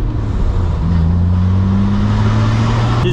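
A Nissan R32 GTR fitted with an equal length front pipe accelerates, its engine giving a loud, steady rumbling drone that rises slightly in pitch over three seconds, close by.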